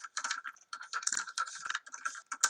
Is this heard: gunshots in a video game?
no